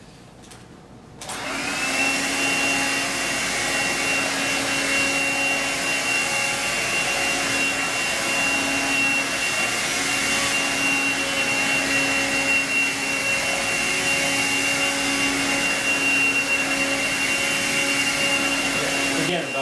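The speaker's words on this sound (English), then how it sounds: "Now we're going to move on to the synthetic pet hair, see how well the machine does on that." A cordless stick vacuum cleaner, a Dyson DC35 Digital Slim or Hoover Linx, switches on and runs with a steady, loud whine and airy roar as it picks up synthetic pet hair, holding an even pitch throughout.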